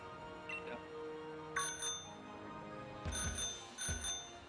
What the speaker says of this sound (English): It doesn't want your fucking bicycle bell, does it?